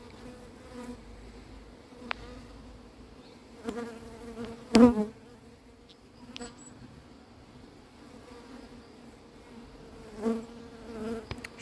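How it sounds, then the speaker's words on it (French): Honey bees from a swarm buzz in close, steady drones around a beekeeper outdoors, with individual insects swelling louder as they fly past, including a sharp near pass midway. "J'ai au moins une quinzaine d'abeilles qui tournent autour de moi en permanence."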